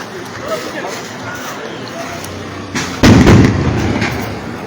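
Bombs being thrown and exploding at the Bishnupur crossroads amid unrest: a sharp, loud blast bursts out near the end over a restless background of crowd noise and shouting voices.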